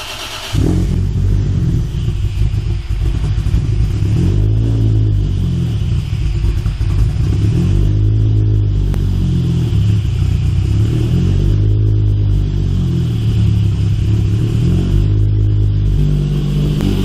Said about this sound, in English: So now I'm gonna go ahead and crank the car over again, kind of idled up